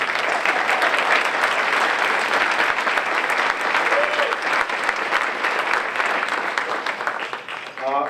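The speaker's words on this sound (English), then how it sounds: "So I would like to give her a round of applause." Steady, loud audience applause at a chamber of commerce awards night, a dense wash of clapping that continues throughout with little variation.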